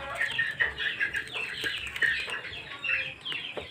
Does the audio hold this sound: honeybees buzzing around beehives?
no